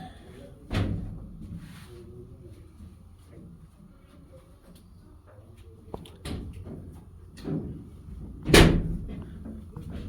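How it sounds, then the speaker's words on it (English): A heavy steel watertight door on a naval museum ship in Galveston bangs and clanks in a metal compartment, with a few loud, separated metallic thumps against a low machinery hum and quiet surroundings. "And another watertight door."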